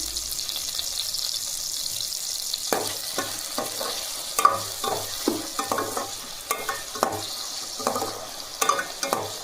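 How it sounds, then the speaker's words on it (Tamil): Onions and tomatoes with a little salt sautéing in a pan for a green pea curry, a soft steady sizzle punctuated by frequent spoon scrapes and taps, close by, with no talking. "தக்காளி வதங்கட்டும். இப்போ வெங்காயம் வதங்கிடுச்சு."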